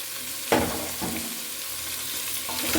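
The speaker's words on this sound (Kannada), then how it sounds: "ಅದನ್ನು ಕೂಡ ಚೆನ್ನಾಗಿ ಎಣ್ಣೆ ಒಳಗಡೆನೆ ಬಾಡಿಸ್ಕೊಳ್ಬೇಕು ಸೊಪ್ಪೆಲ್ಲ ಸ್ಮೂತ್ ಆಗಬೇಕು" Fenugreek leaves sauté in oil in a pan with a steady soft sizzle, broken by a few sharp spoon-against-pan stirring knocks.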